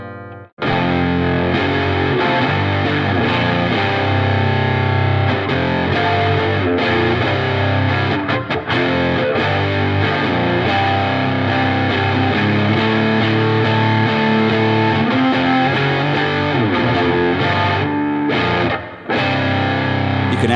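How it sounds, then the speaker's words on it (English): Electric guitar through a beefy overdrive pedal at full gain, playing loud, thick distorted chords and riffs continuously for about twenty seconds, with only a brief dip near the end. "You can absolutely hear it's a very beefy overdrive."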